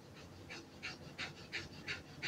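A dog panting softly in a steady rhythm, around six quick faint breaths, close by but quiet against low room noise.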